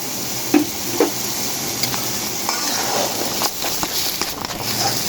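Boiled potatoes land with a couple of soft thuds in a pan of frying spicy chickpeas, then stirring scrapes and clinks run over a constant close sizzle, with no voices.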